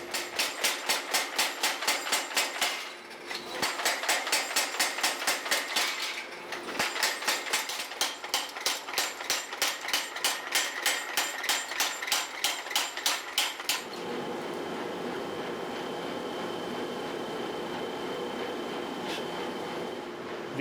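A hammer strikes hot steel in rapid, regular blows while forging the branches of a steel tree sculpture, in bursts with brief pauses, loud and close, then a steady mechanical hum once the hammering stops.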